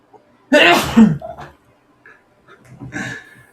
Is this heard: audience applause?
no